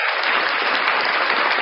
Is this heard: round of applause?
yes